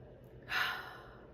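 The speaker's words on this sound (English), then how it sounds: "Deep breath in." One slow, deep inhaled breath drawn close to the microphone, swelling and then trailing off in an otherwise quiet room.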